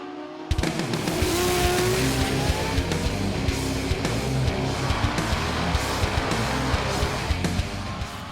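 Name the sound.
race cars racing at Grudge Kings Sydney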